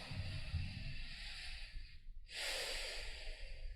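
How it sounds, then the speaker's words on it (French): One person takes a deep breath during a hypnosis session: a long, airy inhale, a brief pause, then a breathy exhale, close and fairly quiet with no talk over it. "Prenez une grande respiration, une grande inspiration."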